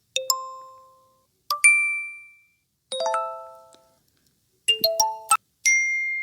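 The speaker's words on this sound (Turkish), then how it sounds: "Evet arkadaşlar bildirim seslerine sırayla bakalım." Six separate phone notification sounds from the Zedge app, each a bright tone or short melodic ping followed by a brief ring-out, with pauses between them and no talking.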